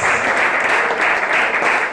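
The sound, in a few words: church congregation applauding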